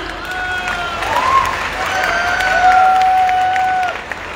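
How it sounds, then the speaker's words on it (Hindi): An audience at an Ayurveda event in Haridwar bursts into sustained applause and cheering, a dense, loud wash of clapping that swells and holds for several seconds, with whistle-like tones riding over it. "एक बार जोरदार तालियां।"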